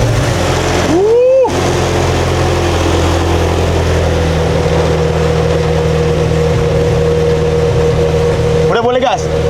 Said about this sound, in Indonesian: Beginilah suara dari McLaren Senna